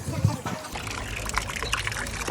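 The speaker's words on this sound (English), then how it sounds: "Fresh water from the mermaid face." Fresh water pours steadily from a mermaid-face fountain, a continuous trickling splash running throughout, with a voice speaking briefly over it near the start.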